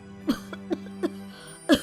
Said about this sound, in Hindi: ये इतनी खांसी क्यों आ रही है तुझे?